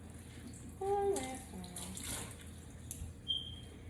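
Water from a tap runs softly and continuously while hair is rinsed and wrung, with a few faint splashes and drips. A person talks briefly over the flow.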